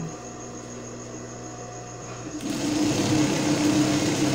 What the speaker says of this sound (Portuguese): vou costurar aqui uma parte